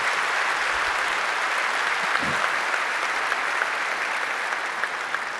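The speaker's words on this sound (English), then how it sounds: "Let's give them a round of applause." Steady, dense applause from a large audience at a Black Hat USA security conference keynote, honoring scholarship winners; sustained clapping throughout, fairly loud and even, with no talking.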